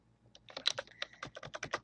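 Rapid keystrokes on a computer keyboard, a quick irregular run of about a dozen crisp clicks, close and alone.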